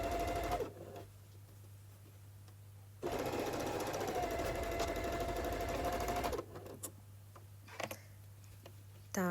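A sewing machine stitches the seam of a decorative fabric Christmas stocking, running in two steady bursts of rapid even stitching separated by a quiet pause, with soft handling noises afterward.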